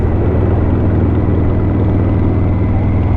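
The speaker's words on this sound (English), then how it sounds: "push rod engine just sounds glorious." A Harley-Davidson pushrod V-twin motorcycle engine runs with a steady, loud low-frequency rumble and throb, continuous and with no voices.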